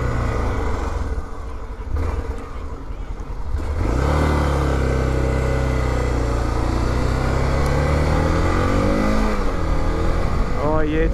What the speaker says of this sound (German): So, da bin ich wieder auf meinem alten Motorrad.